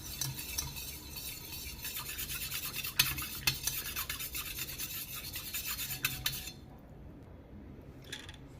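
Turmeric stirred into colostrum milk in a vessel, a steady close scraping and rubbing of a spoon against the pot that runs continuously, then stops near the end, leaving a quieter tail with a few faint touches.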